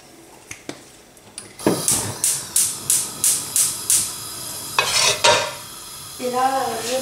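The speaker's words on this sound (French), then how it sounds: "dans une marmite à fond épais, je vais mettre un tout petit peu d'huile d'olive" Olive oil heating in a heavy-bottomed pot for shorba: a few soft clicks, then a regular run of close scraping, stirring strokes over a steady sizzle, a louder hiss, and a brief voice at the end.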